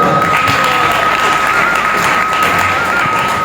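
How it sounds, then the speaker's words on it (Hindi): At a devotional festival lecture, a large audience claps loudly and continuously, a dense steady wash of hands with a faint sustained tone running underneath. "वर्षा वालों के ताली बजानी"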